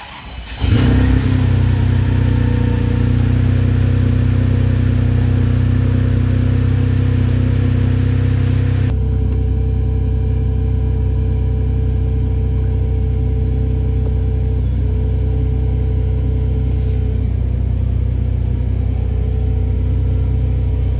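A Ferrari engine fires up and settles into a loud, steady running rumble close by, with a brief rise at the start and a slight drop in tone partway through.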